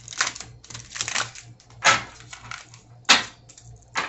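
Large oracle cards are shuffled by hand in a series of crisp, close riffling and slapping bursts, several short flurries separated by brief pauses, with a low hum underneath.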